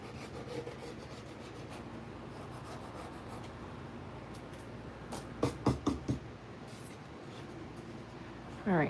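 Sanding a painting surface by hand gives a steady, soft rasping scrape that runs continuously, broken mid-clip by a few louder, quick strokes.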